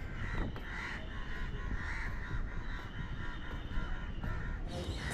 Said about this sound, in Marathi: बऱ्याच सारे बघा वेगवेगळ्या पक्ष्यांचा आवाज इथे तुम्हाला ऐकायला येतो